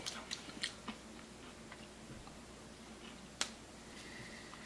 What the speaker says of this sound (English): While you crunch that one down.